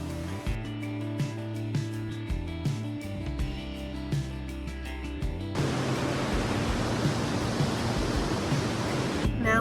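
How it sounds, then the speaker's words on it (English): Music plays at first, then gives way to the steady broadband roar of Burney Falls, a California waterfall, a constant rushing wash of falling water that holds to the end. "we are starting it with what is arguably one of the most pretty waterfalls in California, Burney Falls"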